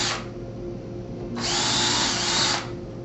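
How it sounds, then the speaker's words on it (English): Power drill pre-drilling a hinge hole for a window panel installed flush to the wall: a brief spin-up, then a steady, loud high whine for about a second before stopping, over a low background hum. "and pre-drill your hole."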